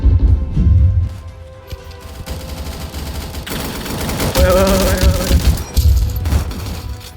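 Automatic gunfire rattles in bursts in a Vietnam War video game, with loud rapid fire, booming impacts and crackling effects that swell and drop, and a short gap between bursts.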